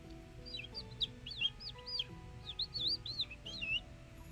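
Cute little chick cheeps and chirps from a Twisted Wonderland game scene, a quick run of high, bright peeps repeated in short bursts over a soft background, with no talking.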